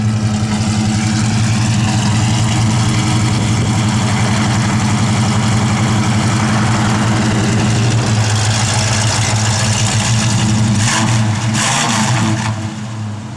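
A 1966 Ford Mustang with a cam idles loud and close, its deep lumpy rumble steady and rhythmic throughout, easing off slightly at the very end.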